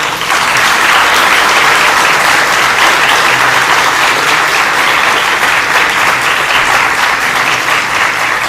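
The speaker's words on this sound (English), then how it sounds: "I request all the students to give a big round of applause and express gratitude to your parents" Sustained, loud applause from students honouring their parents at a JSS Dental College and Hospital graduates reception, steady dense clapping filling the hall without a break.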